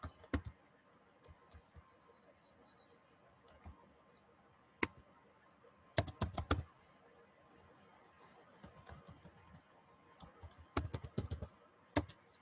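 Keys clatter on a computer keyboard as code is typed, quiet scattered taps interrupted by brief bursts of rapid clicking across the stretch.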